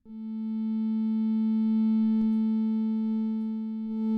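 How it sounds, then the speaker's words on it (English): A steady low pure tone hums continuously, swelling slightly in volume, with a single brief click partway through. "I used a low frequency sine wave, so it's just going to be a pure tone"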